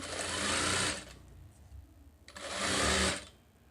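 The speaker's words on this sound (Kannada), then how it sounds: "ಉಲ್ಟಾ ಮೇಲೆ ಈ ಪೀಸ್ನ ಇಟ್ಬಿಟ್ಟು ಸಿಂಗಲ್ ಆಗಿ ಈ ರೀತಿ ಸ್ಟಿಚ್ ಮಾಡ್ಕೋಬೇಕು" A sewing machine stitches a strip of fabric for a katori blouse in two loud, steady whirring runs, with a brief quiet pause between them, no voices.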